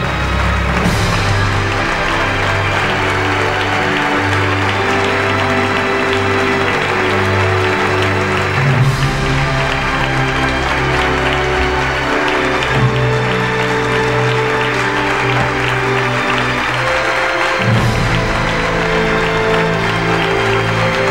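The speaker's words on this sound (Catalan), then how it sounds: "Enhorabona i un fort aplaudiment." Applause at an arts award ceremony in Igualada, broad and continuous, heard under loud sustained music with low held tones that shift every few seconds throughout.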